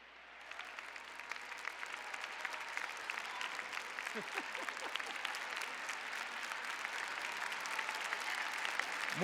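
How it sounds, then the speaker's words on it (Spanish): An audience at a conference on early childhood public policy in Puebla gives sustained applause, crisp overlapping claps that build slightly in strength, with a brief voice surfacing midway. "Merecido ese aplauso"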